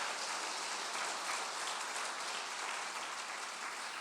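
A church congregation clapping hands in praise, a dense and steady wash of many hands sustained evenly throughout at moderate loudness, with no one speaking over it.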